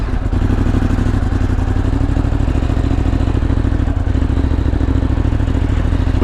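A 2018 Ducati Monster 821 runs steadily on a test ride, its engine a loud, continuous, close mechanical drone mixed with rushing wind noise, with no let-up.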